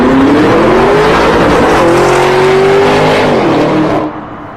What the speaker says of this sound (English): The 2025 Urus SE, Lamborghini's new hybrid, pushes out 800 horsepower